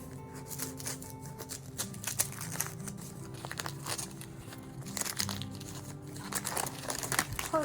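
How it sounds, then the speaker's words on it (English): Crinkly paper or plastic wrapping being torn and peeled off a book, one-handed, with continuous close rustling, crumpling and ripping bursts throughout. "Hard to unwrap with one hand."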